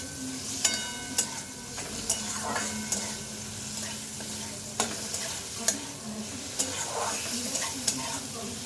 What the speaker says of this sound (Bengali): হালকা হালকা চিংড়ি মাছটা ভাজবো।